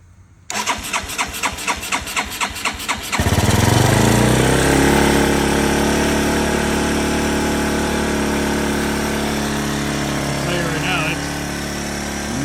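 A 1981 Yamaha SR185 motorcycle with Ignitech TCI ignition and the choke off cranks in a quick rhythmic series of pulses, then fires and settles into a loud, steady idle that holds close by for several seconds.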